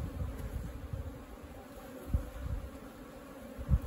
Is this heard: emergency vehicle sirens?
no